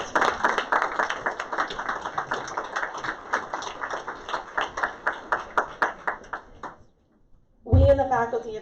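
A small group at a fall convocation reception claps for several seconds in quick, uneven beats that thin out and stop, followed by a short moment of quiet and then a voice.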